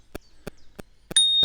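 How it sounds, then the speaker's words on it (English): A handlebar bell on a Dutch-style mountain bike with a rear hydraulic disc brake, struck four times in a slow, even rhythm, then rung with a sustained bright ring at the end, close and clear with no talking. "Bell."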